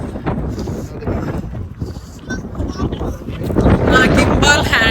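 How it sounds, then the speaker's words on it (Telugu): Strong wind blasts the microphone outdoors in California, a loud, rumbling roar that swells toward the end, while someone talks through it. "నేను గాలికి ఎగిరిపోతున్నా."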